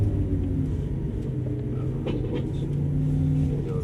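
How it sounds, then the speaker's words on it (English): A Lamborghini Aventador engine rumbles low and steady as the car slows and downshifts coming off the track into the paddock, heard from inside the car. "We're going to downshift one more time as we come into the paddock."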